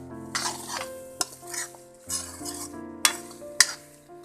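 A boiled pork mixture is stirred in a pan over a medium gas flame, giving a soft sizzle with scraping strokes and several sharp clinks of a utensil against the metal.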